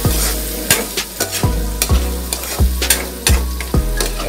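Crab meat being stirred with onion and potato in a hot pan, loud repeated scraping strokes of a utensil against the pan over a constant sizzle, close and rhythmic.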